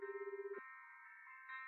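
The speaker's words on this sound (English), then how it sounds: "That ringtone." A phone ringtone in a video game plays as a quiet electronic tone that pulses rapidly for about half a second, then settles into a steady, higher multi-tone chime.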